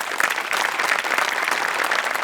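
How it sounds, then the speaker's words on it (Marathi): A studio audience at a Marathi comedy show bursts into full, sustained applause, loud and even throughout, with no talking over it. "त्यांच्यासाठी एकदा टाळ्या वाजल्या पाहिजे."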